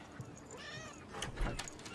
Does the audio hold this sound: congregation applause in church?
no